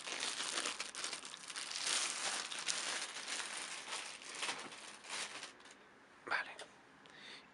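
A Maschine Mikro MkII music controller is pulled out of its plastic bag, giving close, continuous crinkling and rustling that fades toward the end, with one sharper rustle.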